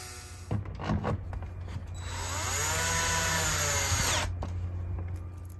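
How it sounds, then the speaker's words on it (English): Power drill driving screws back into an RV door window shade unit, a rising whine that holds steady for about two seconds then cuts off, with softer clicks and handling before, no talk. "go ahead and set the unit back in and put 16 screws back in."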